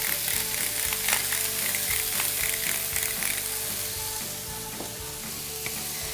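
A hot pan of beans sizzles steadily up close as it gets a quick stir with salt and cracked pepper, with soft scrapes and clinks over the frying hiss.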